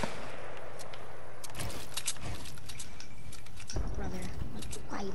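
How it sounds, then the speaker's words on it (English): Gunfire in an arena shooter video game: scattered shots and clattering mechanical sounds over a constant noisy background, while players talk over the action. "Anybody got that kid shooting at us"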